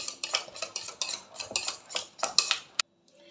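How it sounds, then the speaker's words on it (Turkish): Custard whisked smooth with a wire whisk, giving quick, rhythmic metallic scraping strokes against the bowl, close and clear, before stopping abruptly near the end. "Muhallebimi de hemen görüyorsunuz böyle pürüzsüz bir hale gelinceye kadar tel çırpacağımla çırptım"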